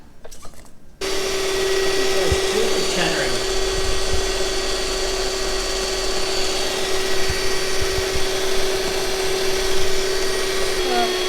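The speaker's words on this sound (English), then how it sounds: "This wasn't quite how I'd envisaged my electric mixer." An electric mixer whipping meringue with sugar, a loud steady motor whine with a constant hum that starts abruptly after a second and carries on close up to the end, with a few knocks and faint voices.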